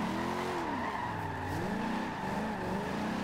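Tires of a Ford F100 skid and squeal while drifting in Forza Horizon 2, a continuous wavering screech over a steady engine drone, close and uninterrupted for a few seconds.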